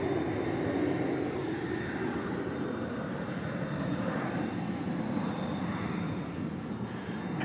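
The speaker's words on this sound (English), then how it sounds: "Off to Colorado Springs goes American Flight 2347. It's a 737-800." An American Airlines Boeing 737-800 taking off at night at DFW Airport, a steady loud jet engine roar with deep rumble and high whine, sustained throughout and fairly near, with no voices.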